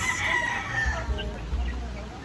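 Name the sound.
native chickens crowing and clucking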